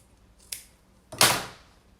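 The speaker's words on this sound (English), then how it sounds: "now we're in a position to trim our corners" Scissors trimming the leather corners of a book cover during a folio rebuild, two close crisp snips, the second louder and longer, in a quiet room.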